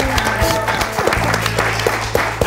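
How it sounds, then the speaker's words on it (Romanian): Studio audience applauding both teams at the end of a round on a television show pilot, a brief burst of clapping mixed with a low rhythmic musical beat underneath. "Putem să rog aplauze pentru ambele echipe"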